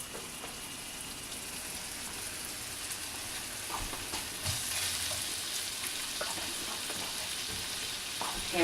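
Pears and peas sizzle steadily in a hot pan, a soft, even frying hiss with a few faint clinks and stirring sounds.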